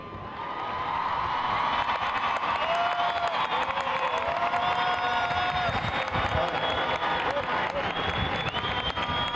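A huge crowd at a large religious celebration claps and cheers for a young Quran reciter, a dense, swelling roar that builds in the first seconds and stays loud, with shouting voices mixed in.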